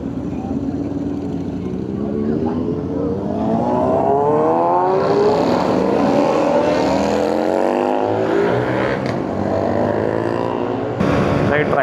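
A motorcycle engine accelerates hard through the gears, its pitch climbing in repeated rising sweeps, loud and close under rushing wind, then dropping briefly before revving again.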